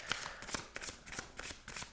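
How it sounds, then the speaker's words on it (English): Tarot cards are shuffled and pulled with soft, quick riffling flicks. The card sounds come in short clusters, close and quiet, with no talking. "I'm just going to pull some cards and see what comes out."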